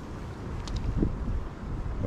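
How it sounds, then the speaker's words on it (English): Strong wind gusting over a lakeside bank during a crappie fishing outing buffets the microphone with a steady, heavy rumble and roar, with no talking. "And it is windy."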